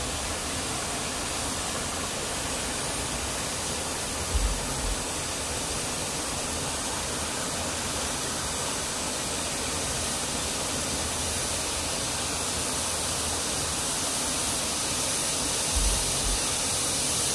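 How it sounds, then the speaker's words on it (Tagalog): Kabag Cave Falls pouring steadily, a broad, even roar of falling water that fills the whole stretch without a break, moderately distant and unaccompanied by voices. "Ayan ang Kabag Cave Falls."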